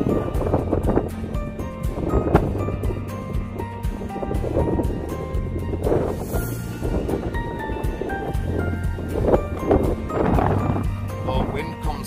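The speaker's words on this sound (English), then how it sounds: "Oh, wind comes through here though." Gusty wind roars across the exposed gritstone ridge of Bamford Edge, a loud, continuous rushing buffet against the microphone while people talk over it.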